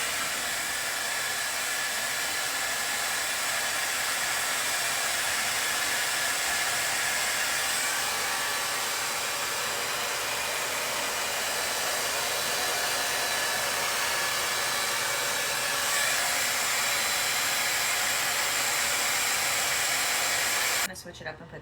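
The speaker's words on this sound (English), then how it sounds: "You can see how fast it's drying my hair." A 5-in-1 blow dryer drying hair runs as a steady, loud, close airflow roar throughout, cutting off abruptly at the very end.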